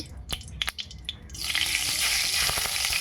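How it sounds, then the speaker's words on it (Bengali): Mustard oil heats in a kadai, with a few scattered clicks and taps at first, then a steady, fairly loud hiss of sizzling that fills the second half; no one speaks. "আমি সর্ষের তেল বসিয়ে দিয়েছি কড়াইয়ে"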